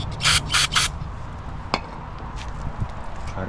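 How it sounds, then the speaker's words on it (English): Carb cleaner sprayed into a Motovox mini bike engine, three short loud hissing bursts near the start followed by faint rustling and a single click. "I sprayed some carb cleaner already in here"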